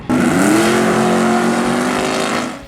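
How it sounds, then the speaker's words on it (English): A junior dragster race car engine revs loud and close, its pitch climbing quickly and then holding a steady high drone, with no talking. "Junior dragsters."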